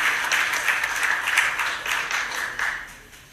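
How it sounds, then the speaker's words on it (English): An audience at a diamond and jewelry trade symposium applauds the moderator, a burst of dense, fairly close clapping that swells in waves and fades out at the end. "Huge round of applause, everyone."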